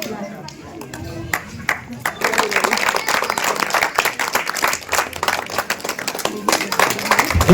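Loud applause from an audience at a World Human Rights Day celebration, dense clapping sustained for several seconds with crowd noise, starting thinner and swelling to a full, steady roar.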